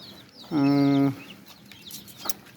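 A single loud, drawn-out chicken call rises close by on a poultry farm for about half a second, then gives way to quiet farmyard background.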